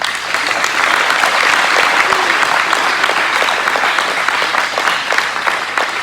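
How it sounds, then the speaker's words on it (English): Sustained audience applause at a coronation and hall of fame induction ceremony honoring graduating seniors, a steady dense wash of many hands clapping for about six seconds with no speech over it. "Please give them a round of applause."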